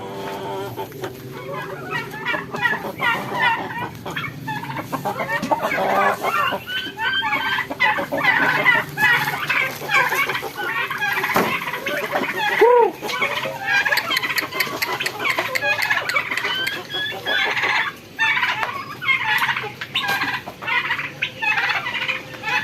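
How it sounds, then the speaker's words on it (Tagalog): A busy flock of backyard chickens being fed bread cluck and squawk continuously, with pecking and scuffling noises and a brief voice in the background. "bumili ako ng isang balot na tinapay para ipakain sa aking mga alagang manok"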